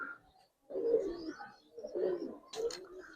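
Giribaz coloring high flyer pigeons coo at close range in a few soft, throaty bursts separated by short pauses.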